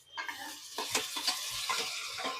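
Tomatoes going into a hot frying pan for a Kannada-style vegetable palya, with stirring and scraping over a steady sizzle, close and fairly quiet.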